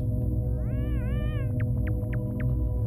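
A cat meows once in a long wavering call, followed by four short rising chirps, over a steady low droning ambient music loop from the video game Yume Nikki.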